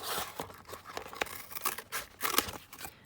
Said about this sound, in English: I'm going to cut this down here, like that.